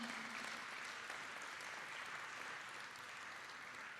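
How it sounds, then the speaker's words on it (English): Audience at a live prospectus launch event gives a round of applause, steady moderate clapping heard at a distance throughout, ending with a brief louder sound at the very end. "Can we have another round of applause,"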